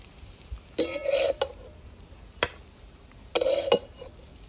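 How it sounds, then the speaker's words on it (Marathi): Kachori filling of potato and onion being sautéed with coriander in a pan, two bursts of stirring and scraping with a brief clink between, close and fairly quiet. "आता शेवटी कोथिंबीर टाकू आणि 2 मिनिटं परतून घेऊ."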